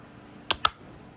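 A universal plug clacks into a power adapter with two sharp, close clicks about a fifth of a second apart, alone against a quiet background.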